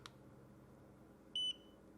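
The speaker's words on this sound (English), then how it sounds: "You can hear the beep whenever it's ready to go again." A Godox V1 camera flash gives a single short, high electronic beep once it has recycled and is ready to fire again, heard alone over faint room hiss.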